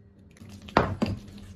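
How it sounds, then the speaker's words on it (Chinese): Egg white is stirred into minced pork filling in a bowl, giving two short, close wet clacks of utensil against bowl and soft squishing in between. "先把这个蛋液往里搅一下，转着圈这么搅。"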